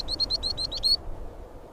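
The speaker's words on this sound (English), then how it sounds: "Among them, the desert finch, a small marvel of resilience." Desert finch calling, a quick series of about seven bright, high chirps delivered close and clear over roughly one second, then quiet background.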